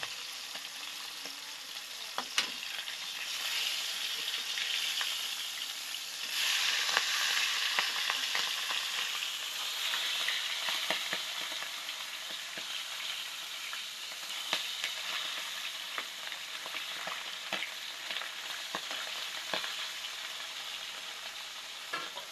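Galunggong fish frying in hot oil, a dense, crackling sizzle that holds steady throughout with sharp spattering pops, close up and without any talk.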